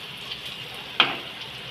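Banana flower fritters frying in oil over a medium gas flame, a steady soft sizzle broken by one sharp clack and a surge of crackle as the fritters are turned, no speech.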